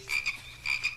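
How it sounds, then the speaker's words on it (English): A frog croaks twice in quick pairs of rasping calls, close and clear in a forest setting, with no voices present. "That sounds like a frog."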